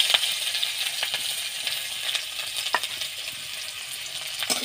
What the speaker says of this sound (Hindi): हमने तेल डाल दिए हैं, जीरा अंदर रखते हैं, इसे हम जो कटा हुआ प्याज है इसमें हम डाल देंगे